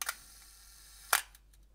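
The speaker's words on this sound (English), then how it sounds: "the mirror lifts up out of the way and the shutter door opens to expose the film in the back to light" A film SLR camera fires on a one-second exposure: a sharp clack as the mirror flips up and the shutter opens, a second of quiet, then a louder snap as the shutter closes and the mirror drops, close and crisp.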